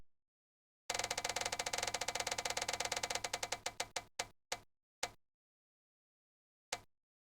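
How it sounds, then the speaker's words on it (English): A selection wheel in a video game spins with rapid mechanical ticks that slow and spread out, then stop after a few sparse clicks, with one last lone click after a pause. "I would spin the wheel to choose"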